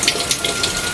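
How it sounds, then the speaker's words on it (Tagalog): Strong water flow from a deep well in the mountains gushes and splashes steadily at close range, a continuous bright rush with slight surges. "Guys, ang lakas ng tubig dito."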